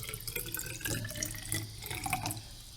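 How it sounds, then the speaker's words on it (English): Water pours into a graduated cylinder in a steady trickling, splashing stream, close and moderately loud, running for a few seconds without speech. "you have an amount of water and you pour it into the graduated cylinder"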